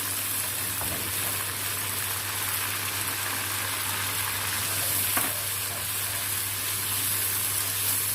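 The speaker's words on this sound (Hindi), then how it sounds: "ऑयल गर्म हो गया है। अब हम इसमें डालेंगे लहसुन अदरक" Steady sizzling of garlic and ginger frying in hot oil, a constant crackling hiss with a low hum underneath, fairly quiet and close.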